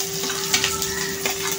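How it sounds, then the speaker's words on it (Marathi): Onion hits hot oil in a kadhai and fries with a steady sizzle, a few stirring scrapes over a short stretch, close and fairly loud with no talking. "हे पहा कढईमध्ये तेल घेऊन आता मी कांदा टाकते आहे।"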